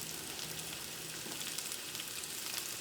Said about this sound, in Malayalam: ഇനി നമുക്കൊരു മീഡിയം ഫ്ലെയിമിലിട്ടിട്ട് ചിക്കൻ നമുക്ക് പതുക്കെ ഒന്ന് നമുക്ക് ഫ്രൈ ചെയ്തെടുക്കാം